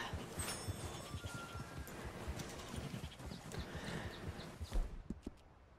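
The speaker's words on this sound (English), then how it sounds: "It's an Arabian. This is considered the best horse in the game." An Arabian horse in Red Dead Redemption 2 clip-clops along with steady hoof beats and a brief snort or whinny, close and moderately loud, with a few bird calls in the background.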